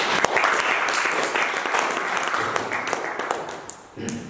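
A church congregation applauds, sustained dense clapping from many hands filling the room for several seconds, with voices faintly mixed in before it fades slightly at the end.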